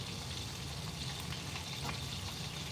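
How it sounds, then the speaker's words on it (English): Meatballs frying in a pan, a continuous even sizzle and crackle heard close and steady throughout, with no talking. "Turn the meatball sideways so all the edges cook?"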